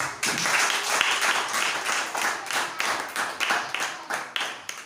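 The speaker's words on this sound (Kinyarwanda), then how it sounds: "Dukomere Imana amashyi." A church congregation claps together in quick, steady rhythmic bursts of praise, a dense, lively sound filling the room.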